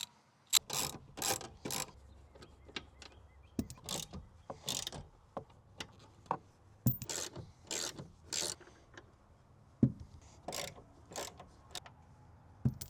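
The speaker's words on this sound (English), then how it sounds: "I'm going to switch over to the ratchet so I can go a little bit quicker" A ratchet loosens the rear seat bolts in a Jeep, with repeated bursts of rapid clicking followed by short pauses, close and crisp against a quiet background.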